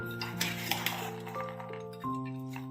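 A spoon stirs a pickle of chillies, green pepper, lemon, garlic and salt, making a few light clinks and scrapes against the container close by, with steady musical tones sounding underneath.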